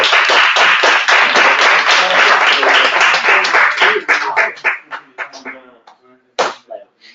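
Audience applause at a Madrid round-table event, dense and loud clapping that carries on for several seconds, then thins into scattered claps and fades out.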